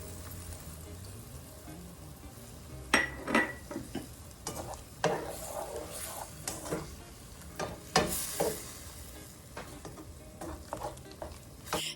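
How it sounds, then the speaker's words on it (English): Red wine goes into a hot pan of sautéed garlic and onion and sizzles against the metal. Stirring and scraping come in irregular bursts over a steady frying hiss, close and moderately loud, with no talking. "Now it's time to add that red wine to the pan."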